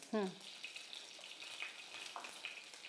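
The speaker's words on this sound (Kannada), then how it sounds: "ಈಗ ಎಣ್ಣೆ ಹಾಕ್ತಾ ಇದ್ದೀನಿ" Hot oil poured into a pan to temper mustard seeds for bisibele bath, giving a soft, steady sizzle with faint crackles that runs through the whole moment, with no talking over it.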